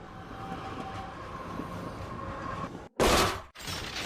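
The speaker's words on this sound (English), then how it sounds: "Abner, look, down the tracks. A train." A train rumbles along railroad tracks in a steady continuous roar that builds, then cuts off for a moment and returns in a loud burst before settling back into the running noise.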